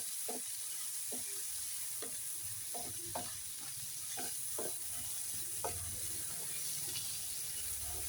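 A spoon stirs and scrapes through chopped vegetables with green chillies, curry leaves and salt, making repeated soft clacks at an irregular rhythm over a steady background hiss, close and fairly quiet.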